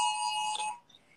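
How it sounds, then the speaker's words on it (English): A city curfew alarm sounds as a steady electronic tone, fairly faint and distant, for under a second before cutting off. "That's the alarm of the curfew."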